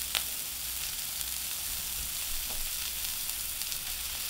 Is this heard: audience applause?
no